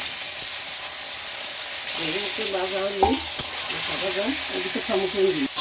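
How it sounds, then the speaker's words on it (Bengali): Okra sizzles in a pan with a steady hiss while a person talks over it, a few clinks of stirring breaking through. "ঢেঁড়সটা একটু ভেজে নেবে"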